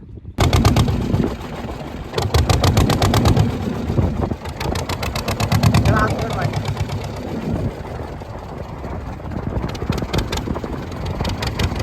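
A fishing boat's engine chugs in a rapid steady rhythm, loud and close, with water and wind noise around it and voices talking over it at times.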